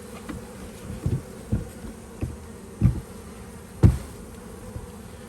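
Honey bees buzz inside a hive box at an apiary, a continuous low hum close by, punctuated by several louder swelling bursts of buzzing as the box is handled.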